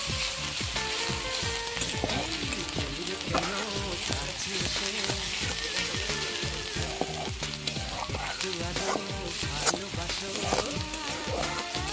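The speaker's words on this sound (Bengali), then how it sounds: "পেঁয়াজটা ভালো করে নাড়া দিয়ে নিচ্ছি।" Onions are stirred in hot oil in a pan, a steady close sizzle broken by frequent rhythmic scraping strokes of a spoon against the metal.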